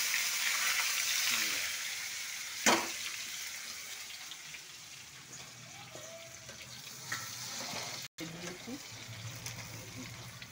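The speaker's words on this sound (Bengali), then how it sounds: "তেলে ভাজছি।" Potatoes frying in hot oil with black cumin seeds give a steady, fairly faint sizzle and hiss, with one sharp clatter partway through and a few soft knocks later on.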